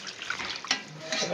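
Hot water poured in a village kitchen while chicken curry cooks over a wood-fired stove, a steady close splashing pour running throughout with slight bursts.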